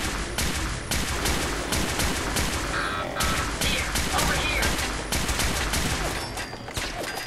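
An automated turret in Fallout 4's Automatron area fires steady rapid bursts, a relentless close rattle of gunfire running throughout with scattered impacts layered over it.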